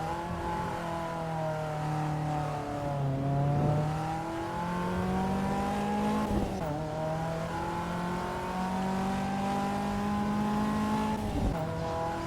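Simulated race car engine in Assetto Corsa EVO, a steady droning tone with gear downshifts and sharp throttle blips that jump the pitch, some tire squeal, loud and continuous with no talk.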